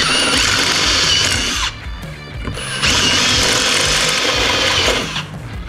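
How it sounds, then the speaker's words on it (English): A power drill fitted with a step bit bores through metal during a custom radio install on a Yamaha YXZ side-by-side, giving a loud, whirring grind that pauses for about a second, then resumes at full speed. "And we are going to drill through these."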